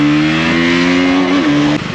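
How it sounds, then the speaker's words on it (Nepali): A KTM Duke 200 BS6 motorcycle engine runs loud and close at a steady, even hum, its pitch dipping briefly before it settles again. "ल बाइक चाहिँ स्टार्ट भयो गाइजहरू"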